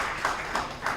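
A studio audience claps briefly for an honoree, light scattered applause pulsing in a few soft bursts.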